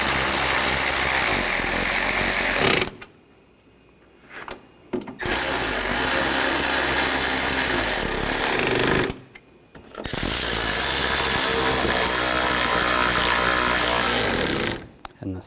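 A power tool drives in the top headlight screws on a 2013-2022 Buick Encore 1.4L, with loud buzzing runs broken by two short pauses and a brief final burst.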